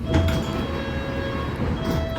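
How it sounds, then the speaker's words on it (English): A London Underground Metropolitan line train standing at Wembley Park station, with a steady low rumble, an electrical hum and faint clunks of doors and equipment, heard from on board. "This is an all-station Metropolitan line train to Uxbridge."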